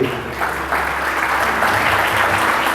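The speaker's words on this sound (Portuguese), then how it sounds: "Agora dá para aplaudir a Jesus de Nazaré" A large congregation at a church service applauds steadily, a dense wash of clapping that holds constant for a few seconds with no voices over it.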